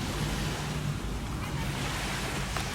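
Ocean waves wash onto a beach at sunset in a steady, continuous roar, with wind noise rumbling across the microphone throughout.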